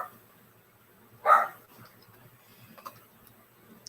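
A single loud dog bark rings out nearby in a quiet room, followed by faint scattered ticks and small household sounds.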